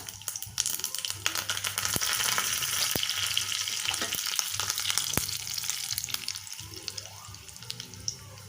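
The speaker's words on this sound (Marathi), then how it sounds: "तेल तापले आता मोहरी घालायची हिंग घालायचा थोडासा आणि कढीपत्ता" Mustard seeds, asafoetida and curry leaves sizzle steadily in hot oil for a tempering, giving a dense crackling hiss with a few sharp pops and spits throughout.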